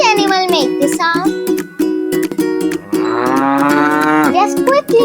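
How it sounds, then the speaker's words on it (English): A cow moos loudly several times in long, drawn-out lowing calls, close and clear with no talk. "Yes, it's a cow."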